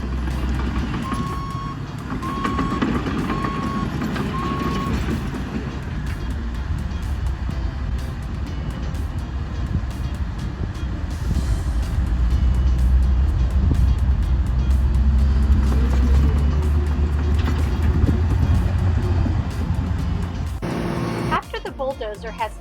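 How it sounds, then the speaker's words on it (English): A dump truck at a construction site reverses with intermittent high reversing beeps, then its engine rumbles louder as it dumps its load of dirt, with a brief clatter near the end. "here goes the dump truck getting ready to dump the dirt on the ground"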